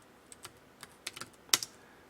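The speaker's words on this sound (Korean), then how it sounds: "그냥 타이핑 쳐주시면 돼요" Sporadic keystrokes on a computer keyboard while entering text in PowerPoint, quiet and close, a few scattered taps building to a slightly louder cluster, with no talking.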